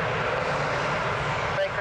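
Embraer 195 airliner at Lisbon Airport, a steady broadband engine roar filling the whole stretch at moderate distance, with a voice speaking briefly over it near the end.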